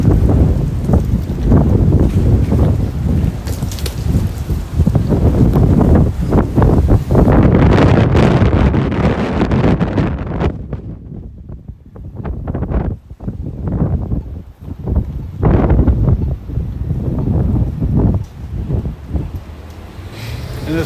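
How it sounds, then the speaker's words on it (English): Gusty wind on a residential street in Boston's Back Bay, loud buffeting rushes against the microphone that rise and fall, briefly easing midway before surging again. "wind's going up and down."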